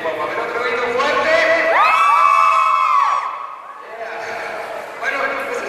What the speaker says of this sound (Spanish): otro grito fuerte